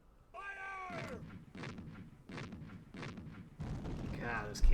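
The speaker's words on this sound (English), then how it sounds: "God, those cannons do a lot when they're attacking from inside a city." Cannon fire in the strategy game Civilization II, as cannons attack from inside a city: a rising tone gives way to a run of four or five loud, evenly spaced booming blasts, then a final heavier explosion.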